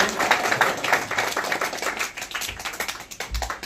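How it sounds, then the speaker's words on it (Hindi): An audience at a qawwali gathering claps steadily to welcome a guest, a dense, continuous patter of many hands, close and fairly loud, thinning slightly toward the end. "इस्तकबाल में आप लोग तालियां से उनका स्वागत करें।"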